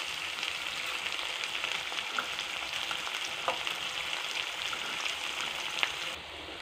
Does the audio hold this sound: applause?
no